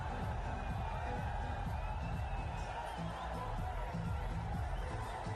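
Spectators at a Sri Lanka versus Bangladesh Asia Cup cricket match cheer a boundary, a continuous, distant crowd roar with whoops, fairly faint, holding steady with no clear peaks.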